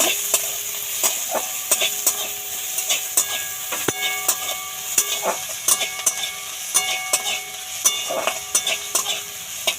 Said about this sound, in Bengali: দেব পেঁয়াজ কুচি দেব আদা কুচি এটা একটু লাল করে ভেজে নেব